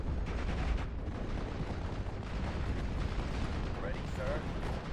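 Steel Division Normandy 44 artillery fire forms a dense, continuous rumble of booms and crackling blasts, heard on a battlefield in a video game, with faint talk mixed in.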